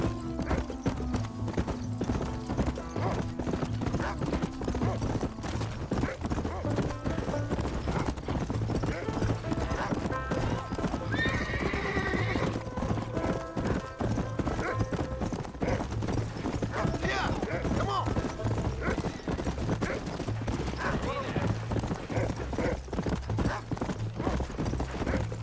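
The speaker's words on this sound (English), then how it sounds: "My horse isn't fast enough." Hooves clip-clop in a fast, steady galloping rhythm as a horse runs in the video game Red Dead Redemption, under a continuous music score, with a brief whinny and speaking voices partway through.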